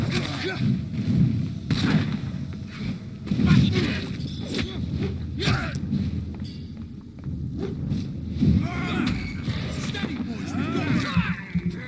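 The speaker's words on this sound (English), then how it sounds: "They threw a fucking grenade." Heavy thuds and explosive booms from grenades and gunfire in the game Vampyr sound among muffled battle noise, while someone talks over the action throughout.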